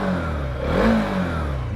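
A TRX 300 adventure motorcycle engine rumbles close up, swelling briefly as the throttle is blipped and then settling back to idle.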